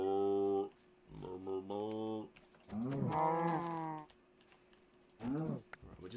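A cow in the Minecraft video game gives several drawn-out moos in separate bursts, with soft computer keyboard typing in the background.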